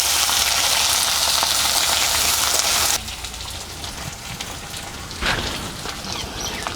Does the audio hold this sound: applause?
no